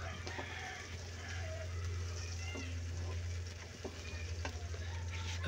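Garlic sizzling in hot oil in a pan for ginisang mongo, a soft steady frying crackle with occasional scrapes of stirring, heard quietly beneath a voice.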